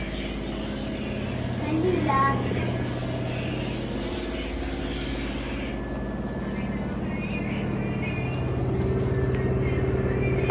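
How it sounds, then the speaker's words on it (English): A Samsung washing machine on its spin cycle gives off a steady, close rumbling whir that swells slightly near the start and holds even throughout, with faint voices at times in the background. "It's on spin cycle."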